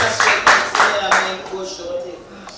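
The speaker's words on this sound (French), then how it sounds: "On applaudit s'il vous plaît." Guests at a civil wedding ceremony clap in a few loud, sharp bursts close by, with a voice talking over and between them.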